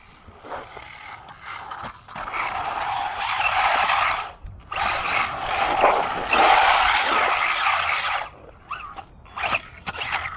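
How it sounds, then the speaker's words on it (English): An MJX MEW4 M162 budget RC buggy whines and skids in several bursts, its tires scrabbling and hissing over the ground with short pauses between runs. "Burn that rubber."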